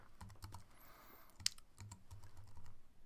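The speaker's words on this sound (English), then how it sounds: "So I'm going to type in create" Quick, light taps on a computer keyboard come in a short burst with one sharper keystroke, quiet and close, with no voices.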